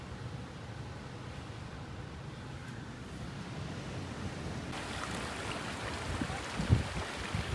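Floodwater rushing over a wall during flooding at a ranch, a steady broadband roar of moving water that swells slightly louder partway through, with a few brief splashy bumps near the end.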